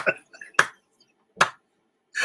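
A person claps in three separate sharp strikes spaced apart, each close and crisp with near silence between them, and a brief murmur of voice comes just before the first clap.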